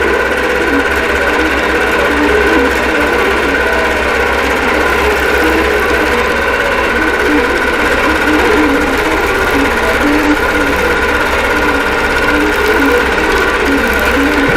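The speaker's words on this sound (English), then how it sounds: "It's taking my first stitch. My machine's on manual." An embroidery sewing machine set to manual stitches a Santa babies snowflake design, a steady, fast mechanical whir with a constant rhythmic hum that runs loud and unbroken throughout.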